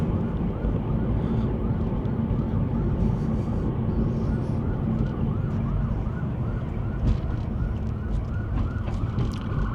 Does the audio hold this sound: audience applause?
no